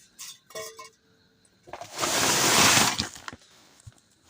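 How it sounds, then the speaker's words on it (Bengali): Assorted vegetables (aubergine, cauliflower, cabbage, onions, chillies, potatoes) tumbling from a bag into a container, a close rustling, knocking rush lasting about a second after a few light clinks and handling sounds. "এটার মধ্যে এখন ঢেলে রাখবো সবজিগুলো"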